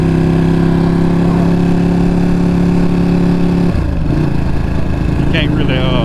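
A 2020 Ducati Panigale V2 exhaust drones at a steady, loud pitch while riding, then drops in tone and blends with wind rush and road noise; voices talk over it.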